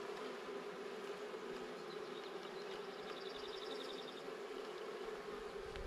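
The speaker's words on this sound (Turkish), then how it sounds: "Arkadaşlar dağlara bu şekilde arı kaçıyor." A swarm of honeybees fleeing toward the mountains in the countryside gives a soft, steady buzzing hum. It sounds somewhat distant and unbroken, with no talk over it.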